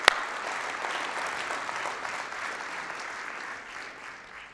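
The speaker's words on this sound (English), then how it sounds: "I just want to applause to you guys." Audience applause at a company presentation, an even, fairly distant patter of many hands clapping that slowly fades toward the end.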